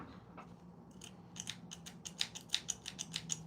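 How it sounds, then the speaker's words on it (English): Sewing snips, a little dull, cut through fabric in a quick series of crisp, close snipping clicks that speed up toward the end, with no voices. "I probably need to buy some new snips"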